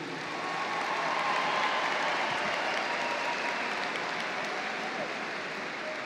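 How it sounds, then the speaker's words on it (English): A large audience applauds graduating seniors at a high school graduation ceremony, a steady, even wash of clapping that holds for the full stretch without talking. "please give a huge round of applause for these incredible and hardworking seniors"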